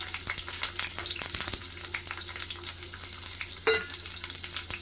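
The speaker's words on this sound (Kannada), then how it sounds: "ಇವಾಗ ಈರುಳ್ಳಿ ಮತ್ತು ಬೆಳ್ಳುಳ್ಳಿನ ಹಾಕ್ತಾಯಿದ್ದೀನಿ" Onion and garlic frying in oil in a pan for street-style tomato garlic rice, a steady close sizzle with occasional stirring clicks and scrapes and no talking.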